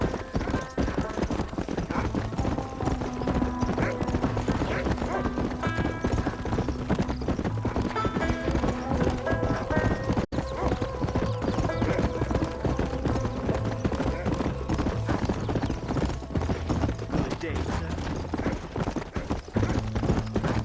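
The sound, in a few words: horse galloping, video game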